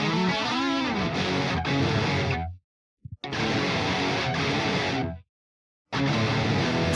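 An electric guitar through a Bogren Digital amp plugin with the overdrive pedal switched off, played in heavy, distorted chugging phrases that stop abruptly twice into short silences before resuming.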